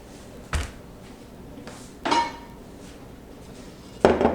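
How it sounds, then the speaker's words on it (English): A glass pan is handled on a clean kitchen counter, giving three separate close clinks and knocks spaced about a second and a half apart, with quiet in between. "This is my glass pan that I like to use."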